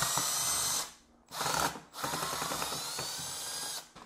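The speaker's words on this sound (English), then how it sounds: "we're going to remove the two screws here that hold" A power driver backs two screws out of an electrical outlet mounted in a wall junction box, giving a near, steady whirring with ratchet-like clicks in two bursts split by a short pause.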